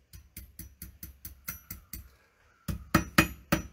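A metal rod for a wine glass holder is struck on the horn of an anvil in a quick, even series of ringing hammer blows. A brief pause follows, then four louder, heavier strikes close by.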